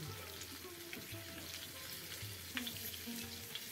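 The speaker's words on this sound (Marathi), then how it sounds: "आमच्या कोकणात मच्छी फ्राय करतो" Mackerel pieces fry in a pan Konkani style, crackling and sizzling steadily at moderate level with a few sharper spatters and faint background voices.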